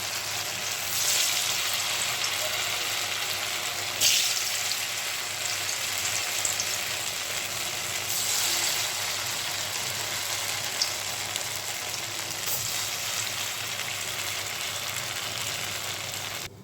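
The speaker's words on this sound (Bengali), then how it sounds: "কোপ্তাগুলো ভালো করে ভেজে নেব" Chhana, potato and carrot koftas frying in hot oil over a low flame, giving a steady, even sizzling hiss that runs the whole time with no voices.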